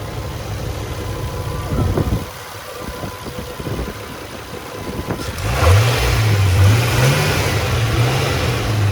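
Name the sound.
Nissan Skyline R34 coupe turbo engine revving through muffler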